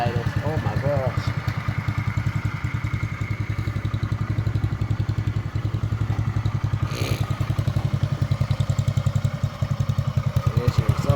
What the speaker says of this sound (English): Listen to how low it idles.